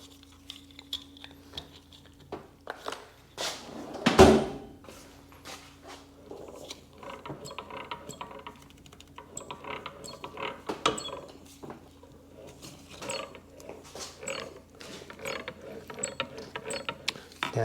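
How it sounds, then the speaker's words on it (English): Starter motor Bendix on a Sea-Doo XP DI ratchets in a quiet workshop, sparse mechanical clicks and clunks with one sharp loud knock early, then scattered faint rattling. "it's a starter motor Bendix I'm hearing"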